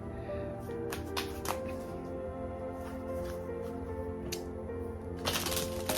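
Tarot cards being shuffled, soft papery riffles and taps in short bursts over a quiet hum of room noise.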